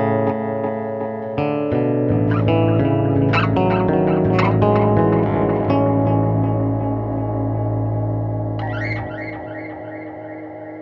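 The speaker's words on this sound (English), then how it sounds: "And now we have the EBS DynaVerb reverb pedal in the effects loop of the ReTracer delay." Sustained distorted electric guitar chords ring through an EBS ReTracer delay pedal with an EBS DynaVerb reverb pedal in its effects loop, loud and alone, with picked notes trailing into echoing repeats and a long reverb tail as the sound fades.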